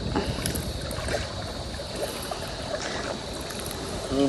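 Water lapping and trickling around a small boat gliding along, with a soft engine-like hum underneath and no talking.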